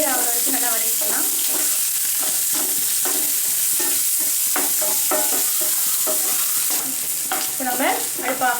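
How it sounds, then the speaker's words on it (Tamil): Onions and green chillies sautéing in a pan until golden for kara kuzhi paniyaram: a loud, continuous sizzle with repeated close spatula scrapes and stirring strokes, and no speech. "வெங்காயம் நல்லா பொன்னீர் ஆகிற வரைக்கும் நல்லா வதக்கிக்கலாம்."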